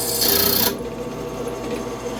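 TTP cobalt drill bit boring through a steel socket, a harsh close grinding whine that eases into a lower, steady rasping rumble as the bit works through the metal.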